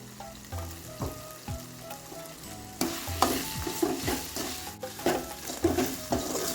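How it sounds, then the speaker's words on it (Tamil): Onions and tomatoes sauté in a pan for Madurai-style mutton chukka, a steady sizzle broken by repeated scraping stirs of the spatula, growing louder and busier partway through with close clinks against the pan. "வெங்காயம் இந்த அளவுக்கு வதங்கிருச்சு"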